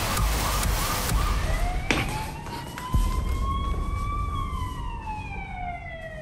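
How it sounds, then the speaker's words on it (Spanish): Police car sirens wail outside, rising and falling in long sweeping tones over a rumbling street background, with a couple of sharp knocks early on; loud and fairly close. "Las sirenas de la policía sonaron afuera"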